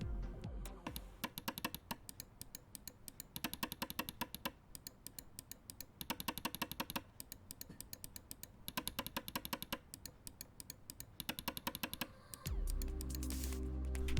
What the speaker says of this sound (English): Here's a test on how all of the buttons sound.